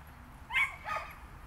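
A dog at a flyball training session lets out two short high barks or yips at a distance, faint over quiet outdoor background.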